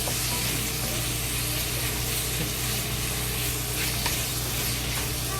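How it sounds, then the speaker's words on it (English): Ground beef slowly frying in oil, a dense continuous sizzle and hiss with faint pops, close and steady throughout, with no talking. "We just slowly fry till the fat in the beef go to the oil."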